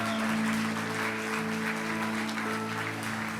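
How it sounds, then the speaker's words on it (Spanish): Steady applause fills a church congregation, a dense wash of clapping held over sustained low instrumental tones throughout. "Dele fuerte un aplauso al Señor"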